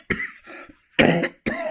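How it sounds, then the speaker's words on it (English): A few harsh, close coughs in quick succession with short pauses between them, and no talking. "I've still got my cough"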